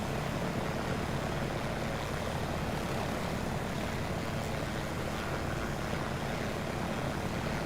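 A Hughes 500C helicopter in flight over the city of Chur, its engine and rotor making a loud, steady, continuous drone throughout with no voices.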